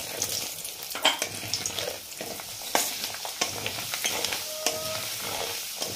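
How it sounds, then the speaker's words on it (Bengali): Gobindobhog rice frying in a pan with bay leaf and whole cumin, a soft steady sizzle broken by light scraping stir strokes and occasional metallic taps, close and fairly quiet with no talking. "চালটা পুরো এইভাবে মুড়ির মতো ভাজা হয়ে যাবে, দেখুন এইভাবেই আমি ভাজবো চালটাকে।"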